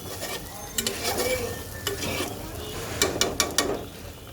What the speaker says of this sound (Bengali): আরেকটু এটাকে কষাবো যত ভালো করে কষাবে তত হচ্ছে রান্নাটা ভালো হবে